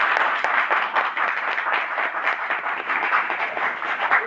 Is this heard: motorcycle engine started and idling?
no